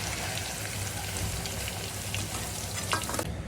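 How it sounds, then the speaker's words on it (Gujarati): Paneer cubes fry in hot oil with a dense, continuous crackling sizzle, loud and close, with a few faint stirring clicks near the end. "પછી પનીર ફ્રાય કરી લેવાનું."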